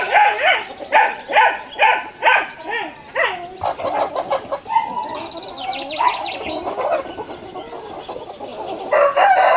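Chickens cluck in a quick series of loud, rhythmic calls, joined by a rooster crowing and a dog barking, in a village farmyard at early morning.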